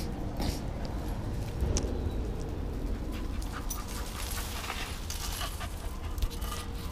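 A small kennel dog pants rapidly and continuously, close by, in a room with a faint background hum.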